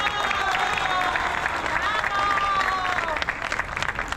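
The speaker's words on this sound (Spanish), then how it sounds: "yo les pido un fuerte aplauso," Strong, dense applause fills a birthday celebration with neighbors, steady and loud throughout, with scattered cheers and crowd chatter blended into the clapping.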